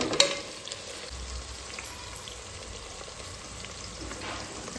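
Tomatoes and greens fry in a pan, a steady soft sizzle with a sharp stir or clink at the start and faint scraping throughout, no talking.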